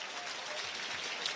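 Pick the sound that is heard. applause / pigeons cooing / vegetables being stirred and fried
applause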